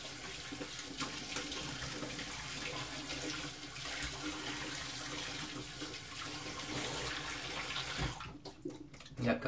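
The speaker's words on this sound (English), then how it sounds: "Let's switch to cold water." Cold water runs from a sink tap while someone shaves with an adjustable safety razor, a steady close hiss of flowing water that breaks into splashing just before it ends.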